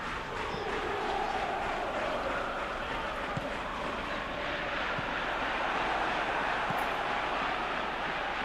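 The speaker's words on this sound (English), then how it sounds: "Crowd appreciates good football all round there." Stadium crowd noise in the eFootball PES 2021 football video game, a steady broad roar of spectators murmuring and cheering throughout at an even level, with no speech.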